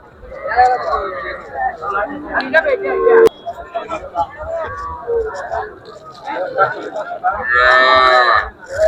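Cows and calves mooing loudly at the Fandauk cattle market, repeated long bellows, one very loud near the end, over crowd chatter and background voices.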